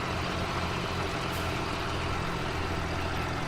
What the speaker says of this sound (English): the truck sounds kind of weird